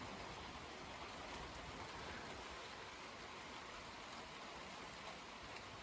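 Light rain shower at night dripping and pattering steadily on a roof, a soft continuous wash of fine drops, fairly faint and even throughout with no thunder.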